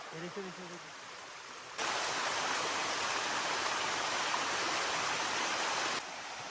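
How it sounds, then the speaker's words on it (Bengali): A waterfall and mountain stream on the Madhukhaiya trail give a loud, broad rushing roar that cuts in after a brief quieter stretch with a voice and then drops away near the end. "চার নাম্বারটার নাম কি রাসরিং ঝর্ণা"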